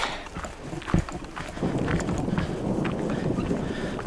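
Horse hooves clip-clop at a walking pace near a horse stable in Shenandoah National Park, a steady series of hollow knocks, with wind rumbling across the microphone.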